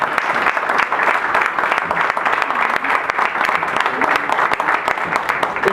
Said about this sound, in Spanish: un aplauso a mi mamá.